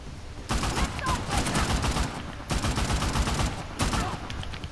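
Gunfire in the video game Uncharted: The Lost Legacy, with rapid automatic bursts in three long volleys separated by brief pauses, loud and dense.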